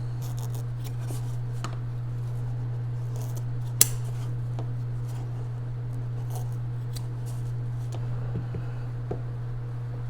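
A single sharp snip of scissors cuts through red paracord over a steady low electrical hum, with a couple of faint clicks later on.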